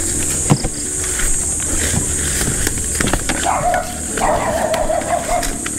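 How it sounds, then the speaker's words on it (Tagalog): A dog barks and yips repeatedly at a house, in sharp bursts with some whimpering between them, fairly close and loud against light background noise. "Tinan mo, hindi na naman tayo kilala ng aso."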